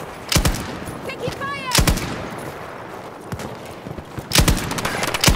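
Battlefield 2042 gunfire: loud, sharp shots in several bursts, close and crackling, with scattered single reports and battle noise between them, and voices heard around the firing.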